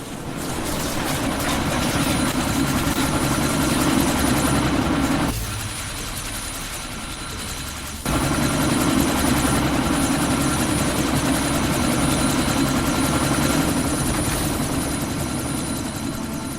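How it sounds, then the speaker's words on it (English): A helicopter in the video game Deus Ex: Mankind Divided thumps and roars steadily as it prepares to take off, loud and close, with a brief dip midway before the rotor drone returns at full strength. "That chopper's about to take off."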